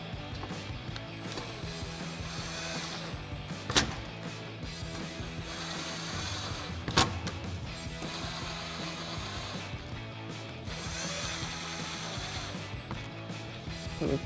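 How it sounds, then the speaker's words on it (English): An impact wrench with a 7mm socket tightens bolts on a 2016-2024 Camaro rear diffuser, giving rattling, ratcheting bursts over a busy mechanical background with two sharp clanks, and no talk. "grab our 7mm socket on our impact and start tightening these down"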